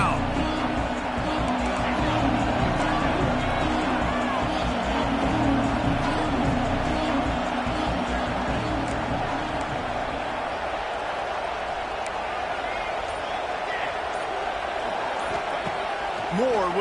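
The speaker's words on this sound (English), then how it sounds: "The crowd electric, trying to help Tech on this 3rd down." A packed stadium crowd in the college football video game NCAA 25 roars continuously as Tech faces third down, a loud, unbroken wash of noise under play-by-play commentary.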